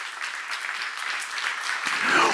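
A church congregation at a seminar breaks into applause: dense, continuous clapping that swells slightly toward the end, close and fairly loud, with no speech over it.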